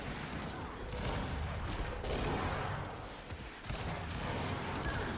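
Gunfire in the video game Gears 5 during a ranked Control match: dense rattling shots and impacts in a busy, loud stretch with brief lulls, no clear speech.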